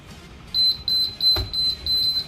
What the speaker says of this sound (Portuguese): Então disparou o alarme aqui.